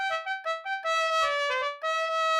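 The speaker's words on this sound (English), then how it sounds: "the trumpet sounds like this without any reverb" Dry trumpet with no reverb plays a short phrase of detached notes followed by longer sustained tones, bright and close, with clean harmonics and abrupt note endings.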